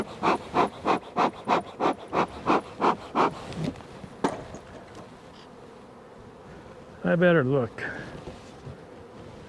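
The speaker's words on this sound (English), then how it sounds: "Ooh, just full of bees" Honey bees at a winter hive, full of bees, give a close, rhythmic run of buzzing pulses, then a voice speaks briefly against the quieter background.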